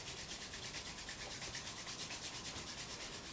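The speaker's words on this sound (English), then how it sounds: "Rub the hands together, get a little bit of heat." Hands rub together briskly during a yoga class, giving a close, quiet, continuous swishing friction with a fast back-and-forth pulse.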